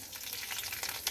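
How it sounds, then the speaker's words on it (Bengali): Panch phoron spices fry in hot oil in a pan after fish has been fried, giving a continuous close crackling sizzle with a few sharper pops. "এবার আমি দিয়ে দেব পাঁচফোড়ন।"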